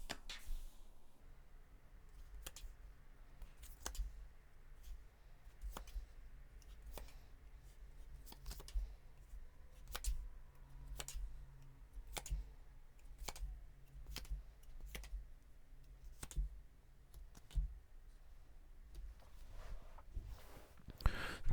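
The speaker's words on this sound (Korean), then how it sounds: "잠시 마음 편안히 가지시고 심호흡하시는 동안 제가 여러분들의 행운의 카드 뽑아볼게요." Tarot cards are shuffled and drawn during a reading. Sparse soft snaps and light ticks of card handling spread over a quiet background, with no talking.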